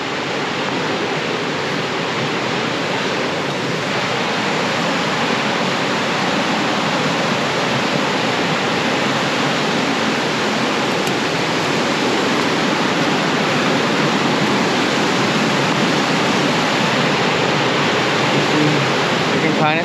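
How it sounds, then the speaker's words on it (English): A waterfall on Vancouver Island roars steadily and loudly, a dense, unbroken rush of falling water that fills the whole stretch without letting up. "Kind of see the waterfall from here."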